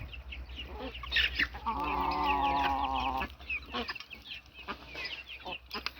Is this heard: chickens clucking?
yes